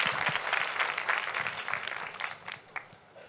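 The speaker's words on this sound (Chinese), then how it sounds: "我哋多谢伟健传道，俾啲掌声佢。" Applause in a church hall for a preacher giving his first sermon in the main sanctuary: a steady, moderately loud patter of many hands clapping for about three seconds, tapering toward the end with a few scattered claps.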